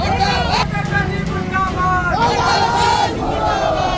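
Farmers at a crop-insurance protest in Mahoba chant slogans together, a loud, dense crowd of rising and falling shouted voices close by, with traffic rumbling underneath.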